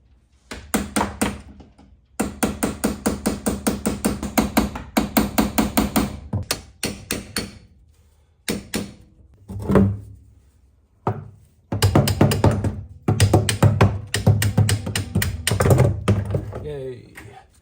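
Rusted brake pads from a long-idle Aston Martin DBS are hammered flat, with loud metallic blows struck in quick rhythmic bursts and short pauses between runs, close and dominant.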